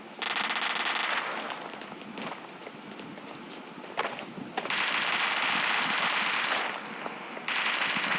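Gunfire in the mobile battle-royale game PUBG Mobile: long, loud bursts of rapid automatic shots, separated by brief gaps and quieter shuffling footsteps.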